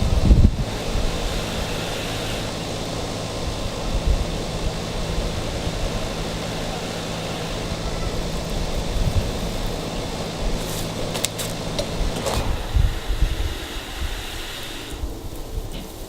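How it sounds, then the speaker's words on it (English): Steady outdoor wind roars across the microphone throughout, with gusty buffeting and a brief crackle near the end. "as you can tell, it's really windy out here"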